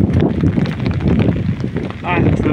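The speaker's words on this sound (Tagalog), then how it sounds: "Lakas ng hangin." Strong typhoon wind buffets the microphone in loud, continuous gusts outdoors beside a small shop, with a voice heard briefly.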